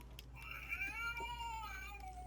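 An angry-cat Halloween decoration from a Dollar Tree haul gives out a drawn-out, wavering electronic meow that rises and then bends downward, heard alone and fairly clearly over a low background hum.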